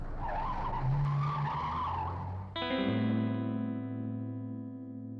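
A car in an audio drama revs and accelerates hard with a rising engine whine, then a sharp tire skid cuts in and rings out with a sustained squealing tone that slowly fades.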